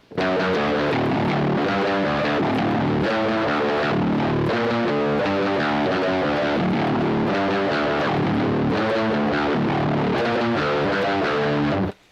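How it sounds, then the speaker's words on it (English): A distorted electric guitar through a whammy pedal set one octave down plays a chugging, rhythmic riff with a deep, thick low-pitched tone, loud and steady with no talking. "I've got my whammy pedal set to 1 octave down."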